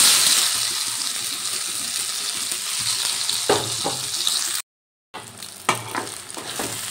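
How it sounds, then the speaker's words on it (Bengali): Pea paste hitting hot oil seasoned with asafoetida and whole cumin, a loud, steady sizzle with bright hiss, then stirring scrapes and clanks after a brief gap. "এবার দিয়ে দিচ্ছি মটরশুঁটির পেস্ট।"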